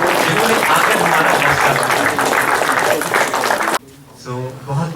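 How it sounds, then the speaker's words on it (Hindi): Loud, continuous clapping from a conference audience fills most of the stretch, then stops abruptly and gives way to a single voice speaking. "तालियां हो जाएं हमारे विशेष अतिथियों के लिए"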